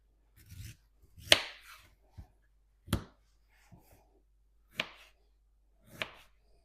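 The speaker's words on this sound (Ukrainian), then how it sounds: "Нарізаємо бурячок." A knife chops through beetroot on a board, a handful of sharp, separate thuds spaced irregularly in a quiet room.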